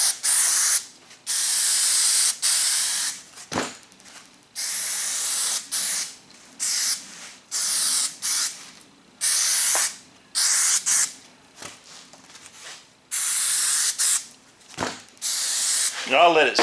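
Repeated bursts of spray adhesive hiss along panel edges in a Chevrolet BrightDrop service van, each a second or two long, loud and close, separated by short pauses with faint background sound.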